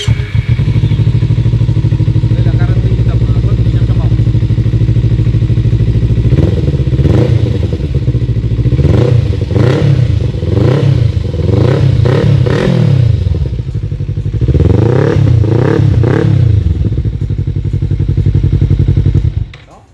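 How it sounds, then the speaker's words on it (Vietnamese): A Kawasaki Z300 motorcycle fitted with an Akrapovic MT10 exhaust with resonator chamber and silencer idles loudly, then is blipped in repeated sharp revs with crackling pops between throttle bursts, close up. "đây là tiếng bô Akrapovic MT10, có bầu hơi và có tiêu âm"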